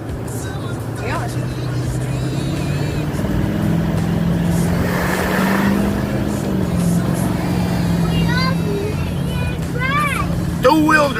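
A car driving in two-wheel drive hums with a steady low engine drone and road rumble throughout, with people talking inside the vehicle over the noise.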